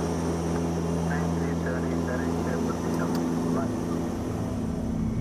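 A UN aircraft in flight over the Western Sahara desert, heard from inside the cabin as a loud, steady engine drone with a low hum, constant throughout.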